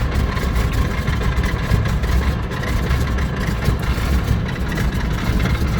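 Stinson aircraft with a 985 radial engine running steadily just after start-up, a loud, continuous low-pitched drone with slight throb, heard alone at close range.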